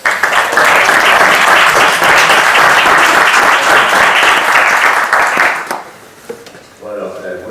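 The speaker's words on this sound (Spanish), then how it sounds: "Les ruego un aplauso para él" An audience at a lecture on women in Cervantes' life and work, held at a literary conference in Mota del Cuervo, gives loud, dense, sustained applause that fades after about six seconds, followed by a voice starting to speak.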